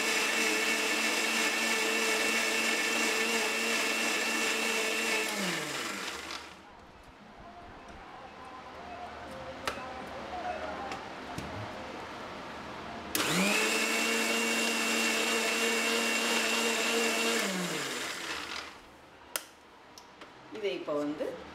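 Beetroot being blended into juice, the motor roaring loud and steady in two long bursts separated by a quieter pause, each burst winding down at its end.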